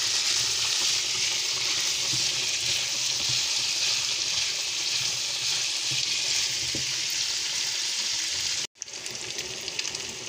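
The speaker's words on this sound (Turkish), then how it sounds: "Soğanlar, biberler yumuşayana kadar onları bu defa pişireceğiz." Onions and peppers frying in a pan while being stirred, a loud, steady sizzle with soft scraping touches, briefly cutting out near the end before resuming.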